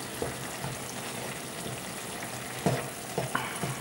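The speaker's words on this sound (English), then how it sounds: "Now I'm going to stir it one more time and then reduce the fire to cook" Szechuan ground meat frying in a pan, giving a soft, steady sizzle with a few louder scrapes and clacks of the spatula as it is stirred, mostly near the end.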